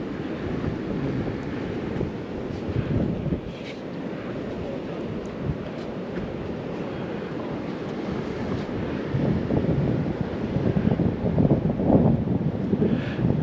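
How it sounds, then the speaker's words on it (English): Ocean waves and surf near sand dunes, a broad, loud roar that swells and eases with the breakers, heavily buffeted by wind gusting across the microphone, no voices. "Some of those waves out there are incredible, aren't they?"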